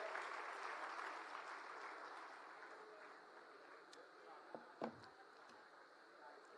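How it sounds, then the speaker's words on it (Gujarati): A crowd at an Aam Aadmi Party rally claps to welcome Gopal Rai, dense applause filling the space, steady and fairly distant, slowly easing off with a few louder claps near the end. "જોરદાર તાળીઓથી ગોપાલ રાયજીને વધાવીએ"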